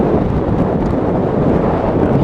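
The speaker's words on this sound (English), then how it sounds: "a little bit of a heavy side gust, the bike, obviously I got buffeted" Heavy side gust of wind buffeting a rider on a Lexmoto Pegasus 300cc Euro5 motorcycle, a loud, steady broadband roar of wind across the helmet microphone, continuous with no voice.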